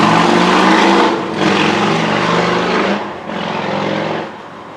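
A loud engine roars past up close, a dense rumbling drone that swells and dips as it goes by.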